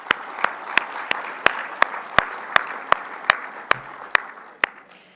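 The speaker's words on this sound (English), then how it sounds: "So let's give these organizations a big round of applause" Audience applause at the Grain Awards 2024 ceremony in honour of sponsoring organizations, a wash of crowd clapping with one near, loud clapper striking an even, steady beat throughout.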